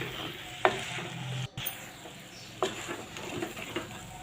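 Cucumber curry with dried shrimp being stirred gently in a clay pot, with soft scraping stirs under a steady low sizzle, a couple of sharper knocks standing out.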